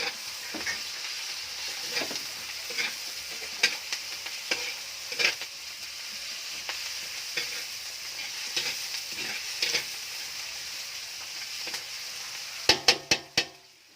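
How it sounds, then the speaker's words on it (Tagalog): Ground meat with onion and chili stirred in a hot pan for spaghetti, steady sizzle beneath repeated scraping strokes of a spoon, a few sharp clanks at the end, no talking. "Mix. Hanggang sa mabungkag ang ginaling."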